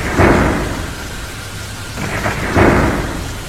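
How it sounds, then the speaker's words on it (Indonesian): Heavy rain pours steadily with strong wind while two deep rolls of thunder rumble close by, one near the start and another toward the end. "akhirnya hujan pun turun dengan cukup lebat serta disertai angin yang kencang pula"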